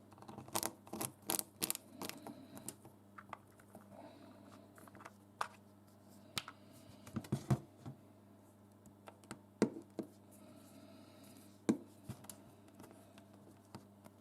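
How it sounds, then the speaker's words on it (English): A lid is screwed onto a small plastic paint dropper bottle, giving quiet irregular ticks, taps and plastic clicks close by, with a low steady hum underneath. "screw the lid on"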